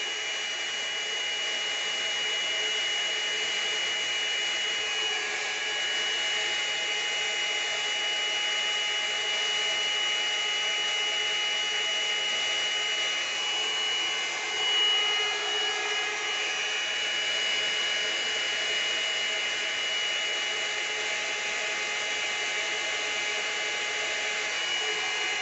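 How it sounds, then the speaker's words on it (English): A steady, even whooshing air stream blows across paint on a spin bloom placemat, continuous and unchanging for the whole stretch, with a slight swell near the middle. "Been practicing on not blowing too hard. Very, very gently."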